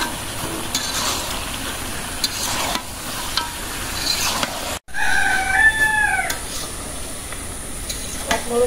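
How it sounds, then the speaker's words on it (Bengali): A farm rooster crows once partway through, clear and fairly close, over the continuous sizzle and stirring of a pan of food frying nearby. "মোরগ আনতেছো আর আবার মোরগটা চিল্লাই"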